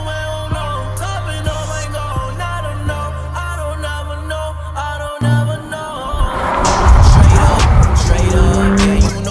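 2022 Toyota Supra on new wheels, engine revving with rising gear-change pulls and a sharp cutoff, then a loud roar and tire squeal as it accelerates, with music playing underneath.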